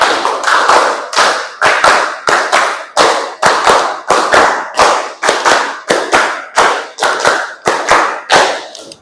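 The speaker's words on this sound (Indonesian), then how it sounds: "Tepuk 5 kali." A classroom group claps hands in a steady, repeated pattern of sharp, loud bursts, close and clear with almost no talk over them.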